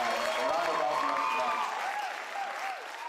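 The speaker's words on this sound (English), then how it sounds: "A round of applause, guys." Audience applause at a Lagos business and policy summit, a steady burst of crowd clapping that fades slightly toward the end, with a voice talking over it.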